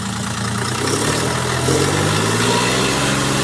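A John Deere tractor engine idles steadily with a low, constant rumble and no voices.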